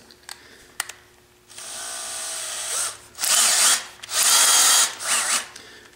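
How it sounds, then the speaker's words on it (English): A drill motor spins a bolt to countersink lift strut holes, with a few faint clicks first, then several loud whirring bursts of varying length close by, separated by brief pauses. "why don't I just go ahead and use a drill motor to turn the thing?"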